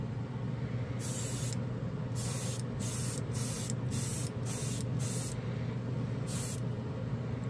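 A spray can of SMS color shift paint coating a spoon, heard as nine close, hissing bursts of varying length separated by short pauses, over a steady low background hum.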